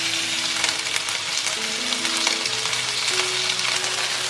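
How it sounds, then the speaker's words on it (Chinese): Chicken wings searing in a dry pan, a loud continuous sizzle with dense crackling spatter and a faint tonal hum underneath, no voices. "接着先干锅，把鸡翅表面的水分煎干"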